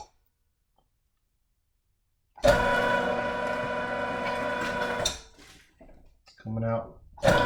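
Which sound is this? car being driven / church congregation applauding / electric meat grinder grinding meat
electric meat grinder grinding meat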